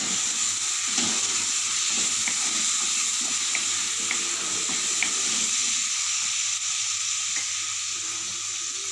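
Drumsticks fry in a pan with onion and tomato that are already softened, giving a continuous close hiss and sizzle with faint stirring clicks and no talking.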